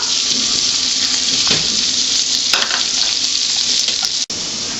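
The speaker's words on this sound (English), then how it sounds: "While the onion cooks," Sliced onion fries in butter in a pan, a loud continuous close-up sizzle with faint clinks of stirring.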